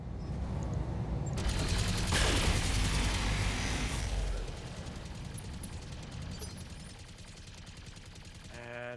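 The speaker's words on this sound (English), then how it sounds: "I'm just gonna move to there and point blank him with 2 large lasers and 2 machine guns" Point-blank fire from two large lasers and two machine guns in a MechWarrior battle, a loud crackling burst of rapid shots in the first half that tapers into quieter rattling.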